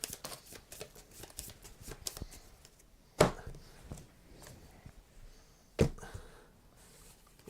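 A deck of game cards for the Harry Potter Miniatures Adventure Game is shuffled by hand, giving rapid papery riffles and snaps with a couple of sharper slaps, close and moderately quiet.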